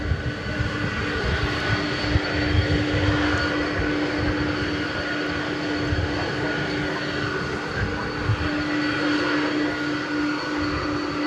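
United Airbus A319 jetliner taking off at DFW Airport at night, a loud steady roar of jet engines with a sustained whine, continuous and close throughout.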